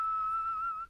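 A person gives one sustained, steady whistled tone that holds a single pitch with slight wavering. It sounds close and clear, with no talk over it, and cuts off abruptly after under a second.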